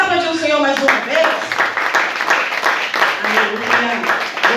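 A church congregation claps in a fast, steady rhythm during a healing service, the dense patter continuing for several seconds after a voice fades out at the start.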